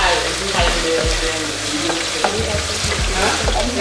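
Food fries in hot oil with a steady close sizzle, punctuated by rhythmic low thumps and scrapes of a utensil moving through the pan.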